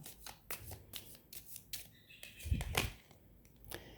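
Tarot cards shuffled and drawn by hand indoors: a string of short papery flicks and slaps at an irregular rhythm, close and fairly quiet, with one heavier rustle near the end.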